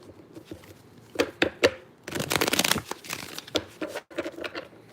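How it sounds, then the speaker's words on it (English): A deck of cards is shuffled close up, several quick riffling bursts and crisp rustles in uneven spurts, the longest shuffle in the middle, with no talk over it. "two more shuffles and we're ready"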